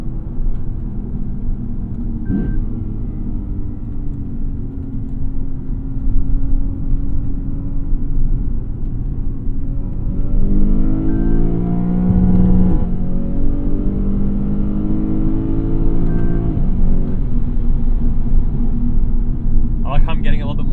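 A 2016 Lexus GS F engine pulls hard in Sport S Plus mode, its steady close rumble rising in pitch through the revs with a jolting gear shift midway, while someone talks over it.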